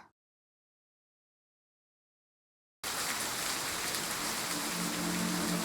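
Steady rain in the video game Christmas Tina, a dense even downpour that starts abruptly after a near-silent opening and continues unbroken, close and fairly loud.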